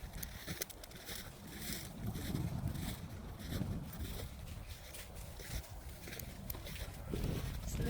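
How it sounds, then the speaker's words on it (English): Cold wind blowing outdoors, a steady low buffeting rumble against the microphone, fairly faint and continuous. "The wind is making it a little cold."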